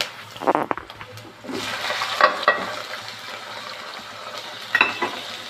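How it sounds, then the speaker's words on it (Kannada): Onion and tomato sizzle and fry in a pan while a spoon stirs them, with several sharp scraping clinks over a steady hiss of frying. "ಈ ಆನಿಯನ್ ಮತ್ತು ಟೊಮ್ಯಾಟೊ ಫುಲ್ ಜ್ಯೂಸಿ ಆಗೋ ತನಕ ನಾವು ಸ್ಟೀರ್ ಮಾಡಬೇಕು"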